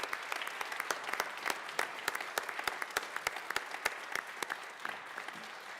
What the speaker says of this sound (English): give her a big round of applause for taking that on